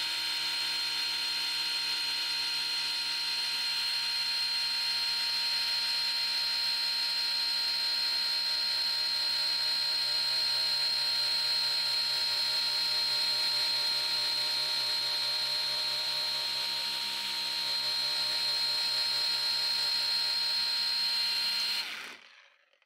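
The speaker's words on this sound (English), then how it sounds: "Let me swap out polishers and we'll get back to it." A car polisher runs close by with a continuous, even high-pitched whine that holds steady for about twenty seconds, then cuts off abruptly.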